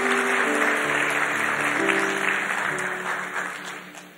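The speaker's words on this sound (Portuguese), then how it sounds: "Vamos aplaudir," A church congregation applauds together in a broad wash of clapping that starts full and loud, then gradually thins and fades toward the end.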